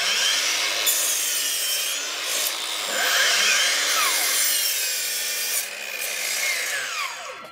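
Rasping, whining cut of a 305mm battery mitre saw, Makita 40v or Dewalt 54v, slicing through a timber offcut, loud and close with the pitch rising and falling across several seconds; no talk.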